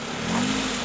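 A brief, loud rev from a Honda Civic EF sedan's B16A engine doing a burnout on McDonald's trays, the pitch swelling slightly over a continuous engine roar.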